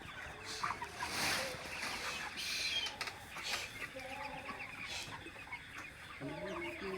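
Many chickens cluck and murmur in a busy poultry house, with scattered squawks and rustling, fairly close and steady throughout.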